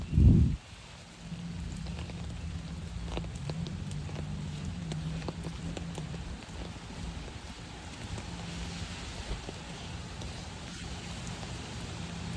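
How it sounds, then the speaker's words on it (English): Steady rain falling outdoors while someone walks barefoot, a continuous patter with scattered drops and a low rumble underneath, opening with a brief loud thump. "Just walk around in the rain."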